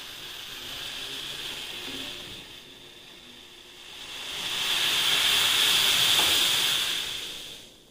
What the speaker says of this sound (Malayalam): നമ്മുടെ പാല് തിളവെന്ന് തുടങ്ങി.